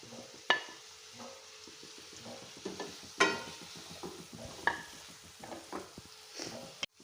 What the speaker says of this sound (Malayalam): നമുക്ക് നല്ലോണം ഇളക്കാം.